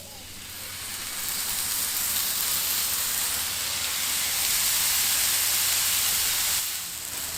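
Pork chops hiss and sizzle steadily on a Blackstone griddle heated to about 350 degrees, a broad, even frying sound that holds close and loud throughout without any talk.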